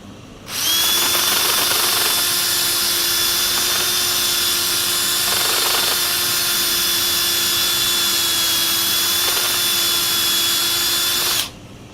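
A wood lathe spins a turned piece during sanding with 180-grit abrasive, a loud, steady motor whine with a high tone that starts abruptly, runs unbroken for about eleven seconds, then stops.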